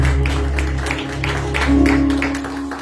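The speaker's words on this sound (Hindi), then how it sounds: "आए जोरदार तालियों में मैं खुदावंद के खादिम को और कलाम के कलाम को वेलकम करता हूं" Steady applause welcomes a speaker at a 2022 New Year church meeting, a dense, even clapping that holds loud and close throughout with a low musical drone underneath.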